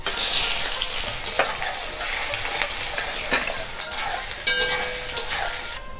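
Onions hitting hot oil already seasoned with a bay leaf and five-spice sizzle loudly and steadily, with a few stirring clinks, while cooking a village-style mrigel fish curry. No voices are heard.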